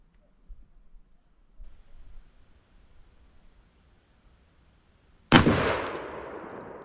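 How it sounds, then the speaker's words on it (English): A single loud, close blast comes from an AR-12 semi-automatic shotgun firing a 2 3/4-inch number 4 turkey load, after a few seconds of quiet handling and faint rustling, and then a long echoing decay. "I'm going to shoot the right hand head with the number 4"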